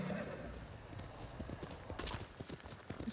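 Hooves clip-clop in a quick rhythm as a horse moves along in the video game Ghost of Tsushima, with a short whinny at the start and faint talk beneath.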